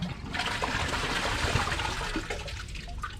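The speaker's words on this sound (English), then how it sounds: "Let's get it a flush." A Kohler dual-flush toilet flushes in a bathroom, a close, continuous rush of swirling water that holds steady for several seconds and then begins to thin into trickling.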